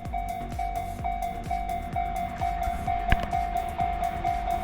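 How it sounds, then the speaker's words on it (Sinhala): An electric train in Japan runs past nearby, a steady rumble with a rhythmic clatter of wheels over rail joints and a sustained electric whine. "ජපාන ට්‍රේන් තියෙන්නේ ඔක්කොම ඉලෙක්ට්‍රික් ට්‍රේන් තියෙන්නේ."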